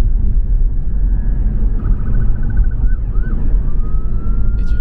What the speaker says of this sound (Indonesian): di depan itu ada mobil ambulans tuh, ngiung-ngiung tuh